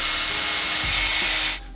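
A power drill bores a hole in a wall for a window blind bracket, a loud steady whirring grind with a slight bump midway that cuts off abruptly at the end.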